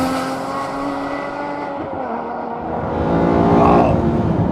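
Aston Martin One-77 engine revving hard past 4,500 to 5,000 RPM, a loud, close, harmonic-rich roar that holds steady, dips briefly, then climbs to a stronger surge near the end.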